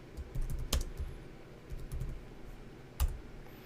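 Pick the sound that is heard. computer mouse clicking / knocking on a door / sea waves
computer mouse clicking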